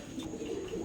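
Saharanpuri pigeons, a pair of top-quality giraffe-necked birds at a pigeon farm, giving low soft cooing for under a second, close and steady with no talk.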